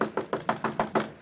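Knocking on a door as a sound effect in an old-time radio mystery drama, about seven firm, evenly spaced raps in quick succession, close and clear with no voices.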